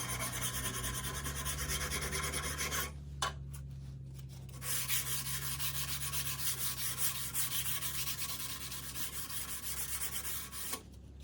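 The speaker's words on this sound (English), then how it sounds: "So I'm just taking a file to take out all of those little nicks" A metal file scrapes steadily across a woodturning lathe tool rest to smooth out small nicks, a close, continuous raspy rubbing that stops briefly partway through, then resumes alone.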